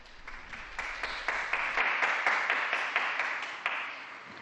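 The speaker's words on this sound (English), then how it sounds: "A round of applause for the new beatified." A crowd at St. Peter's Square applauds the newly beatified during the Angelus, a steady, soft patter of many hands clapping at a distance.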